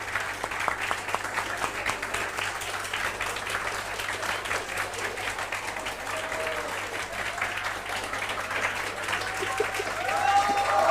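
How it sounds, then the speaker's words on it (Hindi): Applause from a lecture audience of CA and CMA students, a dense steady patter of clapping that runs the whole time at an even level and swells slightly toward the end. "नहीं, ये तालियां आपके लिए बजती हैं।"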